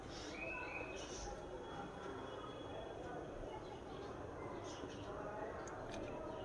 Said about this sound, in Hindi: बहुत स्लो स्लो चल रही थी लेकिन टॉय ट्रेन।